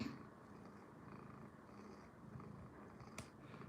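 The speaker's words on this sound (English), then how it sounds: "I don't know if you guys can hear Mitty pretty much purring away." Mitty the cat purrs, a very faint, steady low rumble, close but quiet.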